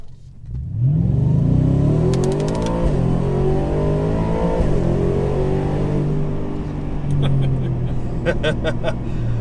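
Ford F-150 Raptor R pickup accelerating hard in sport mode with the exhaust set to its second loudest setting and the rear window open, a loud rising roar through several gear shifts, with people talking inside the cab.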